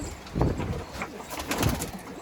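Van pigeons cooing up close in a coop, soft throaty calls repeating twice over a low background.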